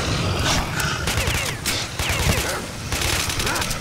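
Rapid overlapping gunfire from a firefight in STALKER: Shadow of Chernobyl, loud and continuous across the moment, with dense bursts of shots and no break in the shooting.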